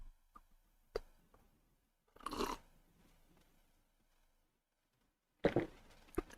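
Vitamin C tablets crunched between the teeth in a few close, sharp bursts, with quiet gaps between the bites and no talking.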